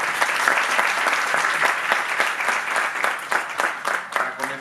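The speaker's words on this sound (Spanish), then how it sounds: "Un aplauso" Audience at a book presentation for El Notariado en México breaks into sustained clapping, a dense, close, evenly loud burst of many hands that holds throughout and tapers slightly at the end.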